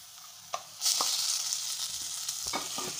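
Smashed boiled potatoes with turmeric sauté in a hot pan for a Jodhpuri mirchi vada filling, giving a steady sizzle and frying hiss with a few scraping stir strokes; no talking.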